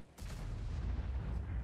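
A tank cannon fires in World of Tanks, one loud blast that sets off a long, heavy rumble.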